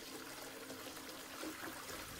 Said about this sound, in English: You're finally going to be able to flush the toilet in the hub.